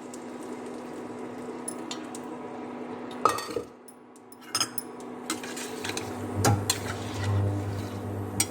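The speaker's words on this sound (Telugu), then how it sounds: "ఇప్పుడు ఈ పప్పు ఇందులో వేసేస్తున్నాను" Mango dal being tipped into a pot of sizzling tempering in a home kitchen and stirred, with metallic clinks of spoon on pot, soft scraping and a quiet background hum, close and moderately loud.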